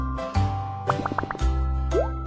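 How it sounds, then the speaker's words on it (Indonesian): Water is poured over a dirty baby panda in a BabyBus bathing cartoon game, giving a short run of splashy drips and plops over steady game music, with a closing bubbly gurgle. "Badannya kotor, haruslah disiram."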